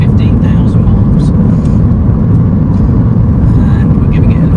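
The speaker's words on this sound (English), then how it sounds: "we're giving it a little run up the road just to see how it drives" 2012 Mini Cooper 1.6 London Edition with about 115,000 miles, driven along a road, a steady loud engine and road rumble heard from inside the car, with no break and no other distinct sounds.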